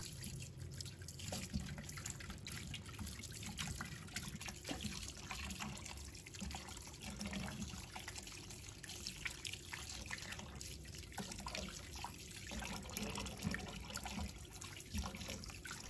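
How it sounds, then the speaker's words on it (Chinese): Chicken wings are rinsed one by one under a running kitchen tap, giving a quiet, steady stream of water splashing and trickling throughout, with no talking. "再用流动水把每个鸡翅都冲洗干净"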